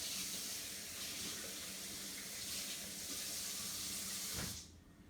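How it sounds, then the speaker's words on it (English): Tap water pours steadily into a Vitamix 7500 blender container at a kitchen sink, a continuous close rushing splash that stops abruptly near the end. "Fill up the container with a little bit of water."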